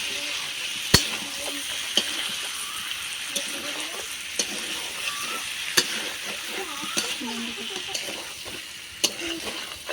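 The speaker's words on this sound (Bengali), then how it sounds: "আর পটলগুলোও দিয়ে দিচ্ছি পটল আলুটার সঙ্গে খুব ভালো করে কষিয়ে নেবো" Pointed gourd and potato sautéing in a hot pan, a steady close sizzle with occasional sharp clinks and scrapes of the stirring spoon against the metal.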